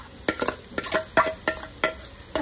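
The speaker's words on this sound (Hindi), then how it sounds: "इसको हम सिर्फ 1 मिनट के लिए फ्राई करेंगे" Grated pumpkin and poppy seeds fry in ghee in a pan while a spoon stirs and scrapes in a steady rhythm of sharp clinks over a soft, constant sizzle, close up and with no talking.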